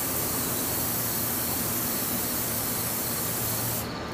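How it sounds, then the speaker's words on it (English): ZEP 45 water-displacing lubricant sprays into the top of an Echo water pump as one steady, close, loud aerosol hiss that runs without a break and thins out at the very end. "What you'll do is spray a hearty amount in the top"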